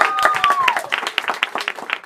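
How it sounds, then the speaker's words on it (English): An audience gives a round of applause for a new single chosen for the Olympics, dense clapping filling the room with a sustained pitched tone running through the first half. "round of applause."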